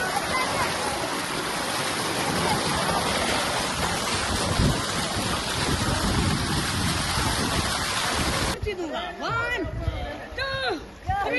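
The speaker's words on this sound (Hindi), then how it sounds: "ताज़ा पानी निकल रहा है, ठंडा पानी निकल रहा है।" Fresh, cold water pours from pipes into an outdoor swimming pool in Punjab, a steady broadband rush that fills the whole clip. A person talks over it.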